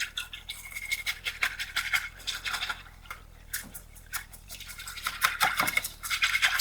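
A small whisk stirs bouillon powder into a rice mixture before it goes into a rice cooker. It makes quick, close, scratchy strokes against the bowl in uneven bursts, with short pauses between them.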